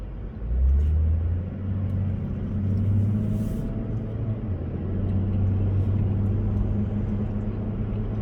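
A car engine rumbles deep and loud from its exhaust, a steady low drone that swells slightly as it revs, with no talking.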